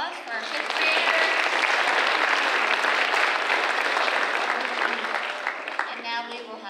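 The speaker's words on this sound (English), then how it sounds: "One more round of applause for our fifth graders." A school audience applauds fifth graders at a culminating ceremony, the clapping swelling quickly and holding dense and steady, then thinning toward the end with a few scattered claps.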